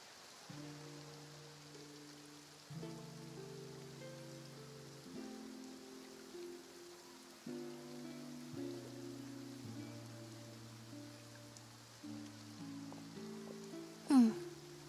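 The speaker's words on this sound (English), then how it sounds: "Looks like rain." Soft, steady rainfall in a video game hisses in the background beneath a gentle, sustained musical tone, with a brief sharp accent near the end.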